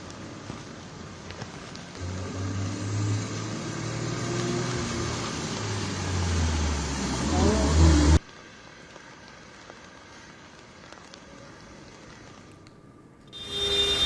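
A four-wheeler drives through a waterlogged road during heavy monsoon rain in Thane, a steady wash of spraying water and engine rumble swelling before cutting abruptly to quieter rain noise.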